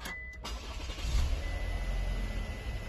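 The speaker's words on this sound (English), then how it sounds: "now it shows us to turn on the engine" A car's engine is started during a battery diagnostic test with a handheld tester: a brief click followed by a low, steady rumble of the idling engine close by, with no talking.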